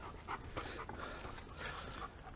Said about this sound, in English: Got my dog helping me.